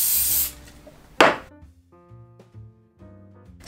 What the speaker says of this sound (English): Bit of hairspray too.